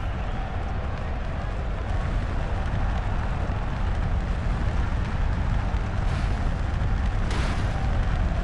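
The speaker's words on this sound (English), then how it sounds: "My God, what a mighty explosion that was." A loud, continuous roaring rumble from an explosion at a wrestling event fills the whole stretch, dense and noisy like a blast mixed with crowd and arena din, without a clear single bang.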